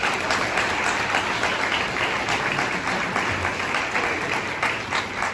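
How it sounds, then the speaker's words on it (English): An audience at a talk about making a museum exhibition gives sustained applause, a steady, even roar of many clapping hands heard from some distance, with no one speaking over it. "she deserves a big round of applause from everyone."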